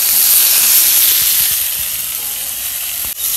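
Fish frying in oil, a loud, steady, close sizzle with a few soft knocks that continues throughout and cuts off briefly near the end.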